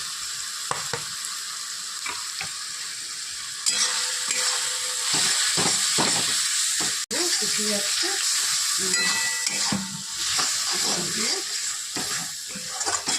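Ground coriander, cumin, chili powder, turmeric and Kashmiri red chili frying together in a pan for a Bengali katla fish kalia, with a sustained sizzle, stirring scrapes and brief speech over it.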